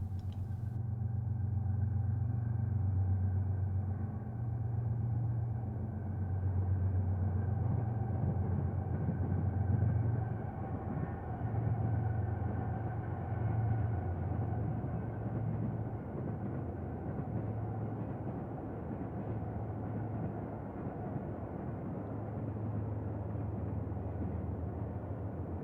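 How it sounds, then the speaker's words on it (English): A BNSF Super Bowl Special, a 16-car stainless steel passenger train led by three anniversary locomotives, rolls through the desert near Victorville as a constant low rumble that holds steady for the whole stretch. "Pulled by 3 anniversary units, the Special, now 16 cars long, had a clear shot across the desert"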